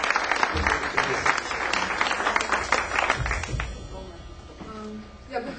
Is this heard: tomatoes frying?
no